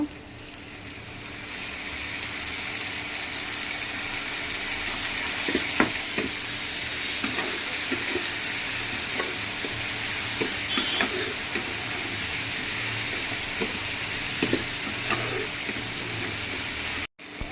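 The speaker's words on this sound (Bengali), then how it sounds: "পেঁয়াজটা আমার লাল করে ভাজা হয়ে গেছে, এখন আমি মশলাগুলো দিয়ে দেব।" Spices tossed into red-browned onions and chillies in a pan for a rohu fish and potato curry, frying with a constant close sizzle, broken by the occasional light scrape and tap of a stirring spoon, then cutting off abruptly.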